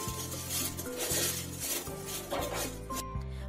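Crispy caramel-coated popcorn rustles and crackles close up as it is handled and tossed by hand, with light clinking against a bowl or pan in uneven bursts.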